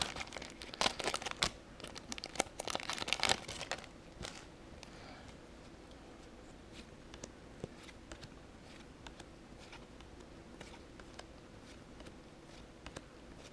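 Magic: The Gathering booster pack from the Magic Origins set torn open at a prerelease, with a burst of crinkly foil tearing and crumpling up close for a few seconds, then quieter rustling and faint handling.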